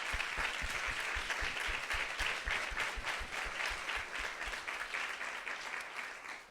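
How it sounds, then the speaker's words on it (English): An audience at a women's leadership event applauds in a sustained, dense wash of clapping that holds steady for several seconds and tapers slightly at the end. "I'd like to give them a round of applause and thank you"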